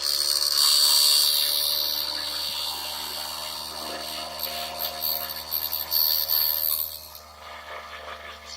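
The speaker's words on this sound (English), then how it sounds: "Right, that's the end of the milling" A workshop milling machine cuts along a metal rail, giving a steady, high whining grind with a faint underlying hum that eases and becomes choppier toward the end, with no talk.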